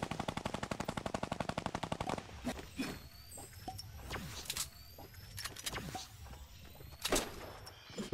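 Rapid automatic gunfire rattles in a fast, even burst during a battle royale shooter match, then gives way to scattered single shots and sharp cracks at varying distances over a low rumbling background.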